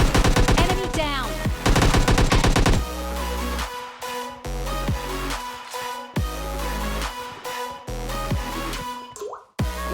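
PUBG Mobile Lite gunfire plays as loud, rapid automatic bursts, a dense rattling stream followed by shorter volleys and single cracks against in-game background sound.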